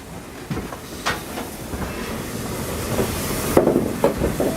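Steam locomotive 60163 Tornado, built in 2008 at Darlington, rolling along rails at Didcot Railway Central, with a steady rumbling movement, occasional clanks and hissing steam throughout.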